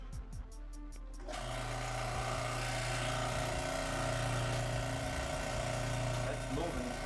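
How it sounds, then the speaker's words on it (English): A hydraulic pump on a cable crimper press, freshly filled with hydraulic fluid, kicks on after a quiet second and settles into a steady, droning mechanical hum that runs on evenly close by. "And then what makes it all happen, the hydraulic pump."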